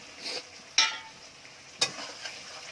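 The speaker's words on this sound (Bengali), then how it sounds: "এবার মাংস চলে যাবে" Chicken pieces, including a country-chicken leg piece for a curry, hit a hot pan, giving two short sizzling bursts close by amid a quiet kitchen.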